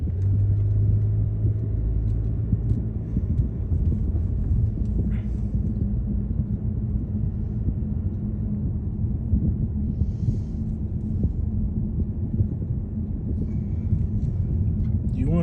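A car drives through rundown neighborhood streets in Montreal, its steady engine and road rumble filling the cabin continuously at close range, with faint background noises and a person's voice talking over it.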